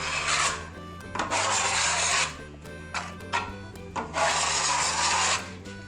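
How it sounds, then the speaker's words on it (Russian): Base putty is spread with a trowel along an exterior wall corner, giving close, loud rasping strokes in several long sweeps separated by brief pauses, with no talking. "его нужно с обеих сторон протянуть базовой шпатлевкой минимум 2 раза"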